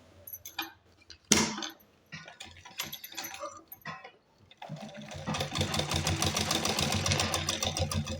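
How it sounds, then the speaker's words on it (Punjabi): A sewing machine stitching a doubled-over fabric seam, run slowly at first with scattered clicks and short bursts, then settling into a steady, fast, continuous mechanical whirr of stitching for the last few seconds, close and clear with no talking. "ਇੱਥੋਂ ਆਪਾਂ ਹੌਲੀ ਹੌਲੀ ਮਸ਼ੀਨ ਚਲਾਵਾਂਗੇ"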